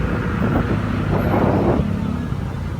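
Steady road traffic noise heard while riding a Yamaha Mio Gear 125 scooter through Metro Manila, with a continuous engine and tire rumble holding at a fairly loud level for the whole stretch, without talk.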